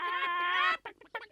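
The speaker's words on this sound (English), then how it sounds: "There they go, flapping down the street." Cartoon hens clucking as they flap off down a street: a long, warbling cackle followed by a few short, separate clucks, bright and close.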